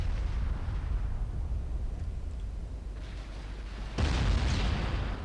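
Heavy booms of Mark IV 12-inch naval guns in the naval battle game Ultimate Admiral Dreadnoughts, a deep rumbling salvo with rolling low-end reverberation and a second sharp blast near the end.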